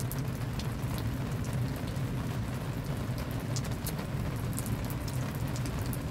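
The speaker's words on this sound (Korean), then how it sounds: "비가 와서" Steady rain falls continuously, a dense even hiss with scattered drops pattering on a surface.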